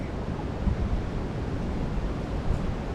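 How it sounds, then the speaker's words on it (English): Hurricane Nicole's surf surging up a Volusia County, Florida beach in heavy wind, a loud, unbroken roar of crashing water and gusting wind noise on the microphone, with no voices. "them waves are coming all the way up here and dumping this debris right here"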